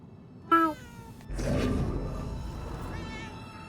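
A cat meows once, short and clear, in the video game Murdered: Soul Suspect, followed by a burst of game ambience and a softer second cry beneath.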